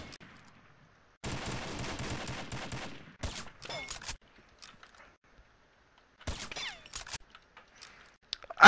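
Gunfire from a sniper duel in the video game Combat Arms comes in several sharp, loud bursts of shots, separated by stretches of near silence.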